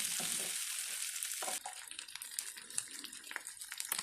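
Cut drumstick pieces sizzle in a hot pan with salt nearby, a bright frying hiss at first, then quieter scraping and clinking as the pieces are stirred and mixed, close and without speech.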